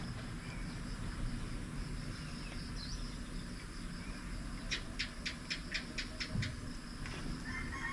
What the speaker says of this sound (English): That's a lizard sound.